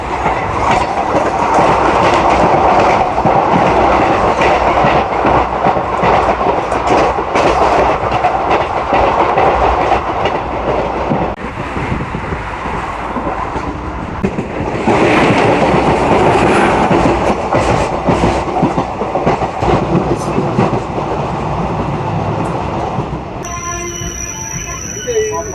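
Seshadri Express train running on tracks, heard loud and near from on board, with continuous rumble and rhythmic clattering of wheels, occasional squeals, and a horn-like tonal burst near the end.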